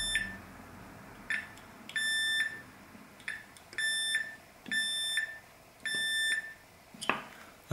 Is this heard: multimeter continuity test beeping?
yes